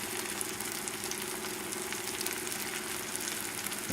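Apples and onions simmer in a pan for kimchi, giving a steady, even bubbling sizzle that stays constant throughout at a moderate level.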